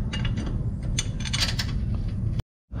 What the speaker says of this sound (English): Using my little electric impact, it came right off.